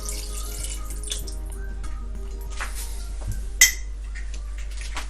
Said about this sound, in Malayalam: ഞാനിപ്പോൾ ഇതിലേക്ക് ഒരു 1/2 ഗ്ലാസോളം വെള്ളം ഒഴിക്കുന്നുണ്ട്.